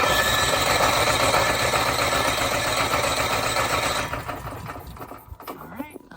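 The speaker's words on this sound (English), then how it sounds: "All right, so the generator is running." A generator engine that surges runs with a loud, close, steady droning rumble for about four seconds, then the sound drops and thins out toward the end.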